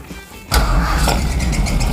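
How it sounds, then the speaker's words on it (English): A car engine cranks and catches after a quiet moment, then runs at a loud, rough idle with a high squeal from a slipping belt, close by and without talk. "sound of power and belt squeal"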